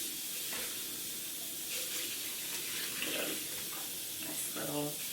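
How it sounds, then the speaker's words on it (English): Water splashes and trickles steadily, as if poured into a container, with a short bubbling gurgle near the end. "Nice little pour of water."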